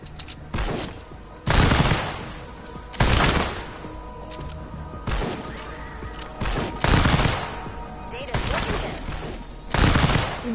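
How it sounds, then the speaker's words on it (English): Gun bursts from a weapon in Fortnite crack out in loud, repeated volleys separated by short pauses, close and punchy, with a voice talking faintly in between. "This gun does some damage"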